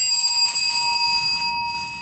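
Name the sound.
bell rung to time a presentation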